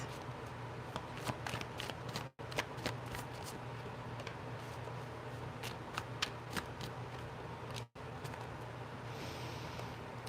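Tarot cards being shuffled and pulled during a live reading, crisp riffling and sliding of the deck repeated for several seconds, close and alone with two brief gaps.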